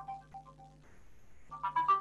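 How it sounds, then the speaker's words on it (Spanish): A mobile phone ringtone chimes in short melodic bursts, pausing briefly before ringing again louder, heard alone during a journalism talk at a university event. "voy a apagar el celular."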